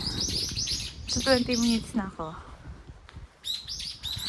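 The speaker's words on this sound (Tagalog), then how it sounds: "Narinig niyo yung mga ibon." Birds chirp and tweet in quick bursts nearby, with someone speaking briefly in between.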